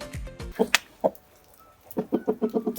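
Amrock roosters and hens cluck close by in short, uneven bursts, with a quick rhythmic run of clucks toward the end.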